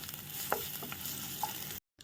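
Chopped garlic and onions frying in oil in a kadai, a steady soft sizzle with a few brief stirring clinks, close and continuous, then stopping abruptly near the end.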